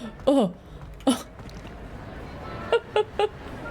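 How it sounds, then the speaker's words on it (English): Characters burping in Hogwarts Legacy: a few short, throaty, pitched belches, one early, one around the middle and a quick cluster of three near the end, moderately loud over quiet background noise. "They burp now. You gotta burp it out of us."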